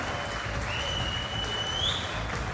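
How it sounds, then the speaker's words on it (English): Capacity crowd applauding at South Paris Arena during para table tennis, a steady roar of clapping with a whistle sliding across it, continuous and fairly loud throughout. "Not far short of capacity crowds for most sessions."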